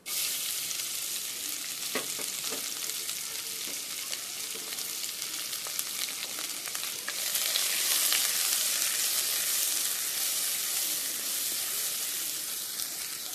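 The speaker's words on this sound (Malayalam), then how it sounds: "ഇനി ഞാൻ സവാള ഇട്ട് വഴട്ടാം." Sliced onion sautéing in a pan for Kerala-style beetroot thoran: a continuous close frying sizzle with occasional stirring clicks, steady throughout with no talking.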